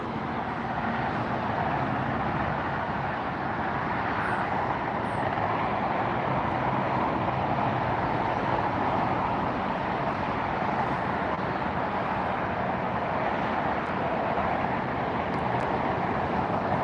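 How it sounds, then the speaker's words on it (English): An Emirates Airbus A380 taxis at LAX, a steady broadband jet rumble and whine holding at constant level throughout with no voices. "There goes the Emirates A380 taxiing to depart on the north side."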